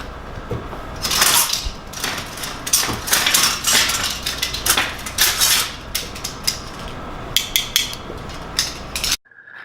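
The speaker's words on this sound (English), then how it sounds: "Next, you want to grab about 4 or 5 small tongs." Small metal tongs and utensils grabbed and jostled in a dish pit at a restaurant sandwich station, a busy run of bright metallic clanks and rattles, close and fairly loud, with no talking.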